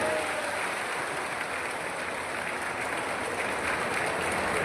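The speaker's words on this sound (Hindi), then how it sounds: "अब ये टंट्या मामा वाली योजना के लिए जोरदार ताली बजा के बताओ, इनसे ज्यादा जोर तरीके से" A crowd at a political rally in Sendhwa claps together, forming a continuous, even wash of applause that sounds somewhat distant and holds steady without breaks.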